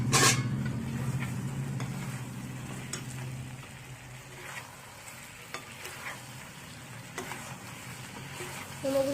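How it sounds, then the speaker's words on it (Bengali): Fried momos tossed into a hot pan bring a loud burst of sizzling that settles into a steady fry, with stirring scrapes and a few clinks of utensil on pan. No one speaks. "এবারে ভেজে রাখা মোমোগুলো দিয়ে দিলাম।"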